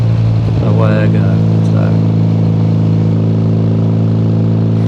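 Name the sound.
Triumph Bonneville motorcycle accelerating as throttle is rolled on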